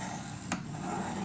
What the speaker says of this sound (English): we just can cut this down. Just score and cut